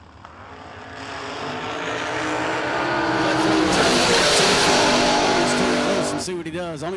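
Door cars drag racing down the lanes at a memorial drag race, engine roar swelling loud as they launch and run, then fading away, with a voice cutting in briefly at the end.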